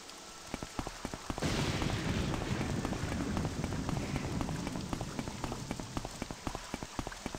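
Rain pours steadily in the video game Morrowind, a dense hiss of drops on the ground that swells after a quiet start, with regular footstep-like thuds beneath it and no talking.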